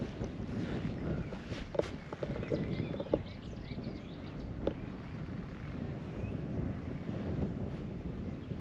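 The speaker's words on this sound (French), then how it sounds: "voilà, là, il y a du vent" Gusty coastal wind on the GR 34 hiking trail between Erquy and Saint-Brieuc buffets the microphone with a low, rumbling roar, steady and fairly loud, with a few faint knocks and clicks scattered through.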